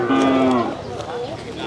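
A water buffalo (carabao) lows once, loud and close, at a barangay livestock market, with a deep drawn-out moo that trails off into quieter background noise.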